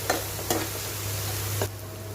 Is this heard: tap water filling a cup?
no